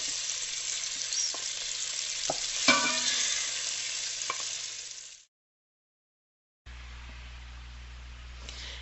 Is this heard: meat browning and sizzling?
yes